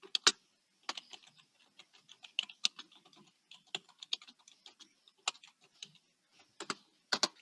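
Typing on a computer keyboard while entering Python code, a quiet irregular run of crisp individual keystrokes with short pauses between them, heard close up and alone.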